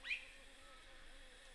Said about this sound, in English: Then in the distance, the sound is the cicadas.